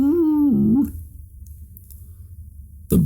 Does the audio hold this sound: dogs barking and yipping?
yes